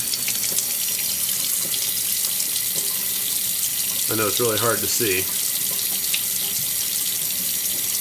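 Water from a tap gushes steadily through a Mishimoto compact baffled oil catch can during cleaning, a continuous close splashing flow with a voice speaking briefly over it.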